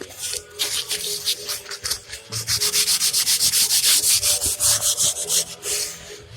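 Hand sanding an antique wooden box with steady back-and-forth strokes, brief and irregular at first, then settling into a fast, even rhythm of rasping passes, close and loud with no talking.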